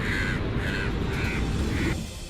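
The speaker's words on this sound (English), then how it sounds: "These aggressive birds suddenly attacked pedestrians for no apparent reason." Aggressive crows attacking pedestrians let out four harsh, evenly spaced caws over a low rumble of background noise.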